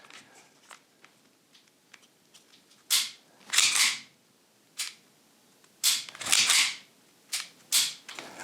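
EMG Staccato airsoft pistol trigger pulled and dry-fired, a series of sharp, close metallic clicks and snaps, some single and some in quick pairs, separated by quiet handling noise.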